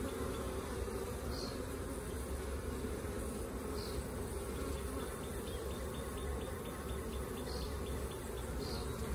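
Honey bees buzzing steadily around the frames of a nucleus colony during installation, a dense continuous hum close by with no speech.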